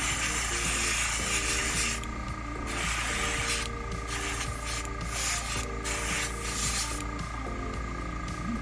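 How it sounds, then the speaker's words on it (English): Air compressor running for airbrush painting, a steady close motor hum with a constant low drone, interrupted several times by short bursts of spray hiss from the airbrush. "I realize I'm talking over my air compressor here."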